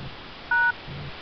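Telephone keypad tones from dialing a prank call to a Burger King, a single short DTMF beep heard clearly over quiet background hiss.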